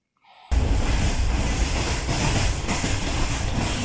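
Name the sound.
train running on rails, clickety-clack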